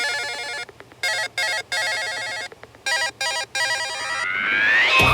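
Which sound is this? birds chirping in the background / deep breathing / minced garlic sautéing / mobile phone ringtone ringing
mobile phone ringtone ringing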